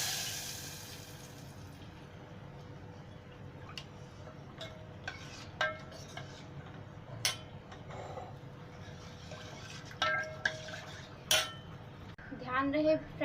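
A spoon mixes roasted spices into gram flour and buttermilk in a bowl for onion-free, garlic-free kadhi, giving sparse, faint clinks and taps against a quiet room hush, with no voices.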